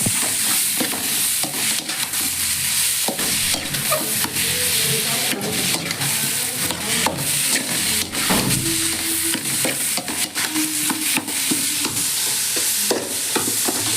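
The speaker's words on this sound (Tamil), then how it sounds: "வெங்காயம் தக்காளி கட்டிட்டு அவன் நல்லா வதக்கலாம்" Onion and tomato sautéing in a pan for a spicy fish curry, with a steady close sizzle and frequent scraping stir clicks from a spatula throughout.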